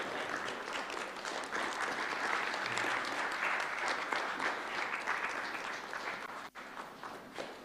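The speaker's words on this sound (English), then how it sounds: "Another round of applause for Cabinet Secretary, Honorable Peter Munya" Audience applause at the opening of an agriculture and food summit for a cabinet secretary, a sustained dense patter of many hands lasting several seconds, with a brief sharp knock near the end.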